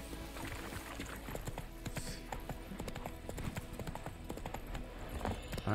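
Horse hooves in The Witcher 3 Next Gen pound out a quick, steady clip-clop rhythm throughout, fairly soft and even, over a low game ambience.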